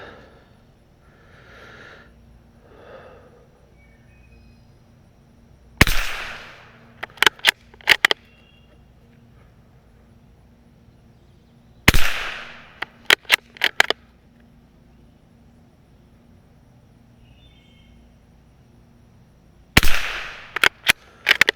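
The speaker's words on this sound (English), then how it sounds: "Let's shoot all 10 at that top left." Gunshots fired at a target during a shooting session: three loud, sharp cracks spaced several seconds apart, each followed by a quick cluster of smaller snaps and echoes, with quiet outdoor background between them.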